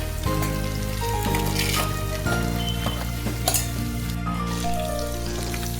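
Spices such as kitchen king masala sautéing in a pan for a chickpea usal curry, a steady loud sizzle with stirring scrapes and a few clinks, no talking.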